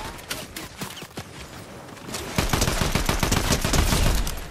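Gunfire in the Fortnite video game, a mix of single shots and rapid bursts that grows denser and louder toward the end, with no talking over it.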